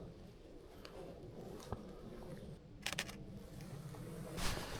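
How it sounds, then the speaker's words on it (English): A camera shutter fires in High Speed Continuous Plus burst mode during outdoor wildlife photography in Cornwall, a quick close cluster of rapid clicks followed by another short burst, over quiet ambient noise. "There's a shutter mode called High Speed Continuous Plus, and it's honestly, it's too fast."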